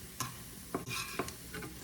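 Onions frying in a pan give a soft, steady sizzle with a few sharp spatula taps and scrapes as they are lifted out, quiet and close, with no voices.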